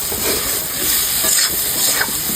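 Yam curry with cumin powder and salt being stir-fried in a pan, a steady bed of sizzling with scraping stirs running throughout, fairly close and continuous with no talk.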